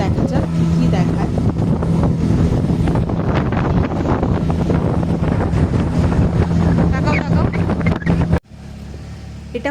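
A tourist motorboat engine runs loud and steady beneath heavy wind buffeting and talking voices, then cuts off abruptly near the end.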